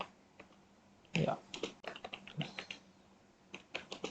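Quiet, irregular clacking of computer keyboard keys as code is typed, with short clusters of keystrokes and pauses between them, close and soft.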